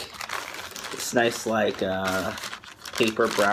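A brown paper bag crinkles and rustles in bursts close by while a person talks over it.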